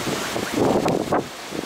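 Strong wind buffets the microphone while cycling past a tower on a rainy summer bike tour, a steady broadband rush that swells in gusts for under two seconds, with no talk.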